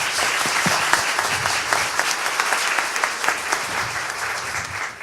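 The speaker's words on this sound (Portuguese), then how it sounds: "o Clésio, para quem eu gostaria uma salva de palmas." Dense, loud applause from the audience at a public hearing in Belo Horizonte, a continuous rattle of many hands clapping together that holds steady and fades slightly at the end.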